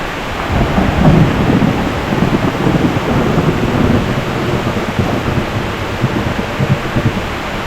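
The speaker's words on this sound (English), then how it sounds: "Suddenly, the rain began to pour, heavy and relentless." Heavy rain pours down in Sakleshpur, Karnataka, in a loud, dense roar, with low rumbling swells underneath and no voices.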